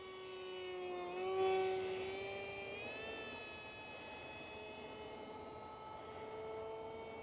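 An RC F18 model jet with an RCT 2208 2600 Kv electric motor flies past, giving a thin, whining motor tone that rises and falls in pitch with a broad airy rush, moderately near and steady, without speech.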